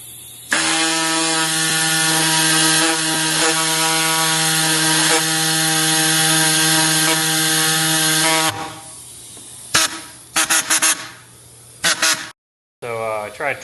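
Power tool cutting the plastic shroud on a Volkswagen Touareg during a winch install: a loud, steady whining drone for several seconds, then stops, followed by short bursts of cutting and brief pauses.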